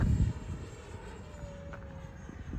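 An FMS 70mm Viper RC jet with afterburner flies past, a steady ducted-fan whine and rushing roar holding at moderate distance, louder at first, then settling as it climbs away outdoors.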